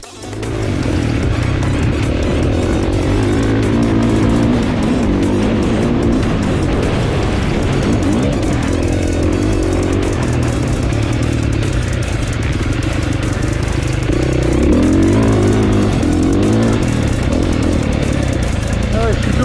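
Motocross bike engine running continuously while being ridden on a break-in ride, a loud, steady droning buzz that rises and falls slightly, with a person talking over it.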